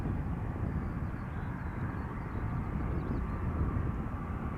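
An airplane at Schiphol Airport gives off a steady broadband engine roar, loud and continuous throughout with no distinct approach or fade.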